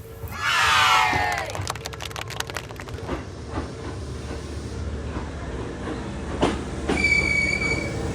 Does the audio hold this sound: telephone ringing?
no